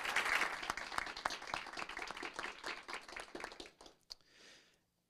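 A round of applause from the attendees of a city council meeting, dense clapping that is loud at first, then thins out and fades to a few scattered claps and silence.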